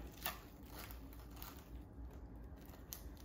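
A crisp crunching bite into deep-fried tilapia, a few sharp crackly crunches close up over a low steady background hum.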